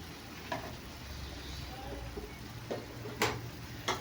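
Turmeric, cumin and chili powder sizzling in a pan, a soft, low crackle running steadily, with a few sharp ticks and scrapes of a stirring utensil against the pan.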